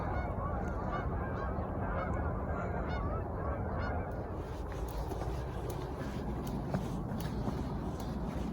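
A flock of geese honks continuously by an icy river under a high level bridge, dense overlapping calls mixed with outdoor rumble, a few sharper honks standing out toward the end.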